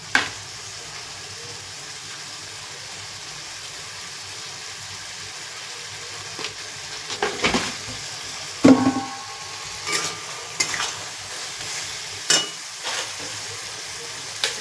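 Spices frying in oil for chicken kosha, a low steady sizzle with intermittent scraping and clinks of a spatula stirring against the pan, a few louder knocks scattered near the end.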